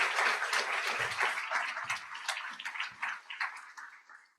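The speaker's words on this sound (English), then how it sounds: "So give them a special round of applause." Audience applause at a university education and human sciences convocation ceremony, a dense wash of many hands clapping across a hall that stays steady, then thins slightly toward the end, with no voices.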